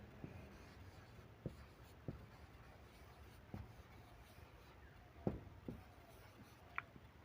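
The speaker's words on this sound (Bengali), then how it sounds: "আমি কয়েকটি রেমেডির নাম লিখে দিচ্ছি" A pen writes on paper in a quiet room, faint and close, with soft scratchy strokes and occasional light taps spread across several seconds.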